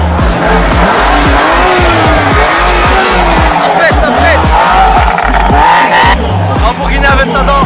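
Performance cars, including an Audi RS3 and BMW M4s, rev loudly at close range in a Turkish wedding procession in Pontarlier. Deep throbbing engine note with repeated rev pulses, with someone talking over it.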